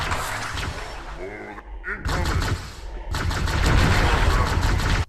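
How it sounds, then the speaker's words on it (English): Halo CE beta plasma grenade explosion in the video game: a deep, rumbling blast in bursts of crackling noise, broken by a short gap and then a longer dense burst that cuts off abruptly, with narration over parts of it. "The following explosion is a lot greener than it is in the final game, and uses a much deeper sound effect."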